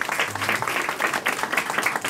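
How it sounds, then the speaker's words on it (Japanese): A small group of people claps in a room at a band's live-announcement talk, brisk overlapping handclaps at close range that continue steadily with faint voices mixed in beneath. "拍手。"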